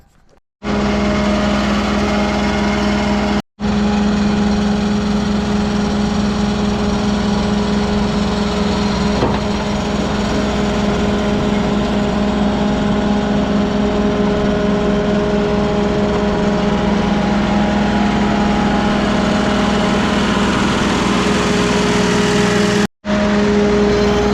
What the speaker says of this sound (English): I grind a lot of stumps.